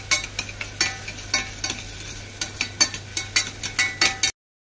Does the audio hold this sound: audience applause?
no